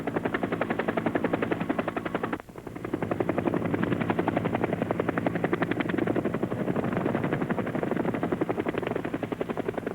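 A helicopter's rotor thumps in a rapid, steady chop, loud and close, a constant mechanical pulse with a brief dip partway through.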